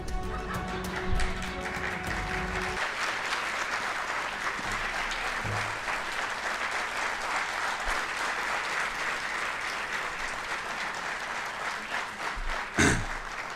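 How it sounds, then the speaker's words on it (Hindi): A large audience at a media talk in Indore claps long and steadily, a dense continuous roar of hands filling the hall for over ten seconds, with faint murmurs underneath. "बहुत बहुत धन्यवाद इतनी तालियों के लिए।"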